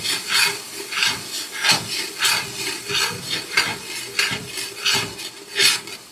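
Ground masala paste for Dindigul biryani is stirred in a pan with a spatula, giving a steady rhythmic scrape and rasp roughly twice a second, close and fairly loud, with no talking.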